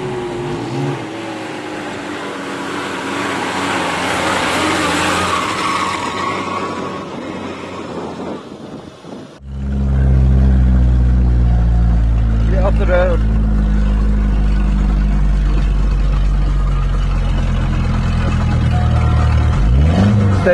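A vehicle driving off-road on a rough track on an overland trip from Yorkshire to The Gambia, its engine rising to a loud, steady roar after a muffled first half with voices talking inside.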